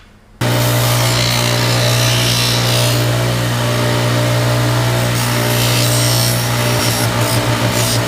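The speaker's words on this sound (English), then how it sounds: "now I'm going to take it over here on the grinder and grind all these edges off" A loud, steady grinding drone starts abruptly and continues without pause, a power grinder grinding the edges of metal parts for a kayak trailer, with a constant hum.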